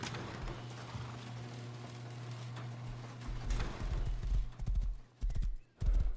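Horse hooves clip-clop in the survival game Rust, a loud, close rhythmic run of clopping steps that grows heavier and more distinct toward the end over a steady low background hum.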